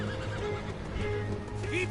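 A horse in the video game Red Dead Redemption 2 gives a brief neigh with a wavering pitch over busy gunfight noise and a faint clip-clop, and voices talk underneath.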